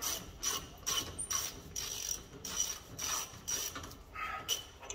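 Ratchet clicking as it undoes a brake caliper bolt on an Abarth 595 during a Brembo disc and pad change, with short bursts of quick ratcheting strokes repeating through the clip, close and moderately loud.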